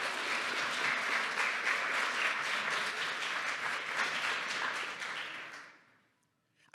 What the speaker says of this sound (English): just look at the person sitting next to you and clap for them and let them know you appreciate that.